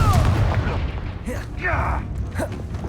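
A Confringo blasting spell bursts in Hogwarts Legacy with a few sharp, booming blasts and crackling effects, mixed with game voices and talk.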